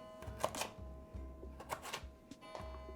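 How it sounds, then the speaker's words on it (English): A knife cuts vegetables into pieces for roasting on a board, giving a few distinct close taps and knocks spaced irregularly over a low background hum. "Now, you want to cut your pieces to be about 3/4 of an inch."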